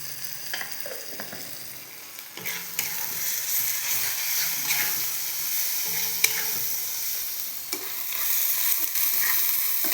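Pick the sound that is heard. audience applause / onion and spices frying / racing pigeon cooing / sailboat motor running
onion and spices frying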